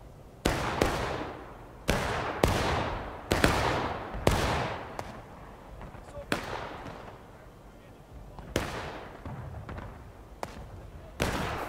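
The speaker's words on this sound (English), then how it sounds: "Not entirely sure how well you can hear me when cannon shots going down this close." Repeated heavy cannon blasts in the Civil War game War of Rights at Bloody Lane, loud booming reports every second or two with long rumbling tails, some distant, while someone talks between them.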